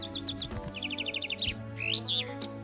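Small cartoon bird from Hello Kitty chirping in quick bright runs of tweets and rising whistled calls, close and clear over a soft music bed, with no talk.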